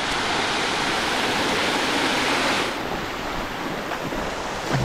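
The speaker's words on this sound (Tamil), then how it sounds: "2 பக்கமும் தண்ணி வருது" Waterfall water pouring down both sides of a rocky cascade in dense forest, a steady loud broadband rush that continues unbroken throughout, easing slightly partway through.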